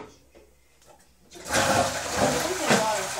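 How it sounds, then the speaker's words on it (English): Rushing water of a waterfall in an Angry Birds Adventures cartoon episode, starting abruptly after a quieter stretch and continuing as a loud, steady broadband roar. "It's a waterfall."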